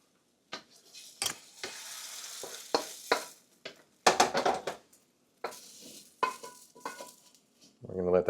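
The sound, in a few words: scrambled eggs being pushed and cooked in a wok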